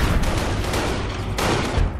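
Automatic gunfire in the World War II strategy game Company of Heroes, loud dense bursts of rapid shots with booming impacts, two main volleys back to back, no talking.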